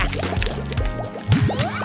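Water splashes and drips over a toy during a quick shower, with wet squishing and pouring gurgles, close and moderately loud, ending in a few bubbly drips.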